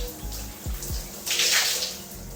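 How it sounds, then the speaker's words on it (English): Running water rinses product out of type 4 hair, a splashing rush that swells louder midway, with a few low thumps early on and no speech. "So maybe I'll rinse it all out."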